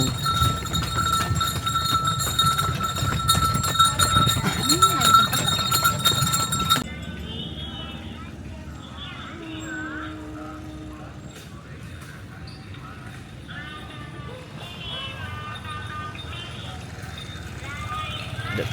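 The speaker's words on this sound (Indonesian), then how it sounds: "Ada kuda." Horse hooves clip-clop at Setu Babakan during a horse ride, a steady rhythm of knocks that gives way to quieter ambient street noise, with people's voices faint in the background.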